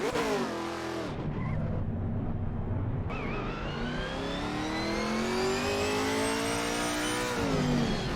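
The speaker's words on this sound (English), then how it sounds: "That sounds like a Camaro." A deep American GT4 race car engine in Assetto Corsa Competizione roars steadily, revving high and dropping back between gear shifts, loud and continuous with no talking.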